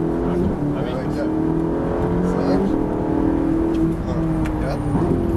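A Ferrari 458 engine revs and accelerates in close onboard sound, its pitch climbing and dropping through gear changes, with people talking over it.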